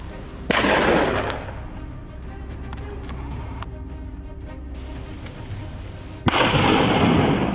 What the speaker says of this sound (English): Without hesitation, I steadied my breath, raised the rifle, and fired.